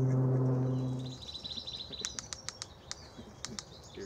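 A screech owl, a small horned owl, gives a series of sharp, rapid clicks at close range, irregular and fairly faint, following a fading tonal sound, with no talk over them.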